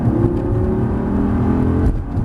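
A Lamborghini engine roars steadily at high revs while accelerating on a cone course, a sustained throaty drone that dips briefly near the end before building again.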